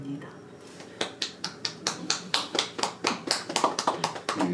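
Applause from a small audience at a Korean film screening Q&A with a guest visit, beginning after a quiet moment as a quick run of sharp, evenly spaced claps in the room that continues for several seconds.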